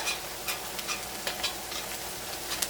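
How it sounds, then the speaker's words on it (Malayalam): Onions frying in oil in a wok make a steady, close sizzle with light scattered crackles and faint stirring ticks, fairly quiet and without speech. "സവോള മുരിഞ്ഞ് വരണം കേട്ടോ"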